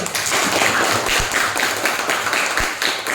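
A classroom group gives a burst of scattered hand clapping for one group of students, moderately loud and uneven, lasting a few seconds.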